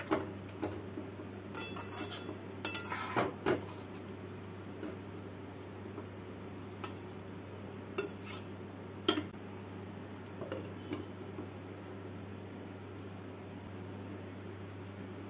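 A pot of doodh jhinge, ridge gourd cooked in milk with ghee and garam masala, is stirred and covered with its lid, giving scattered close metallic clinks and taps over a steady low kitchen hum.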